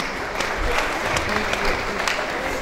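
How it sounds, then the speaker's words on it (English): Audience applause fills a matriculation ceremony hall, a steady dense clapping from a crowd that carries on throughout. "Please give him a big round of applause."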